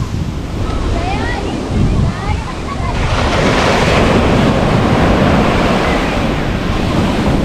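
Sea waves wash in at Chaliyam Beach, a loud, continuous rushing surf close by with wind buffeting the microphone and a swell of foam midway.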